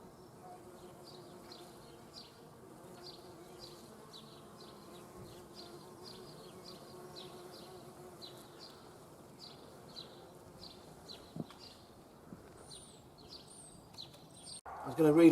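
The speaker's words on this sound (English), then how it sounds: "The tree is buzzing." Bees buzz in a flowering tree in a small front garden, a soft continuous hum with birds chirping repeatedly over it, and a louder rustle right at the end.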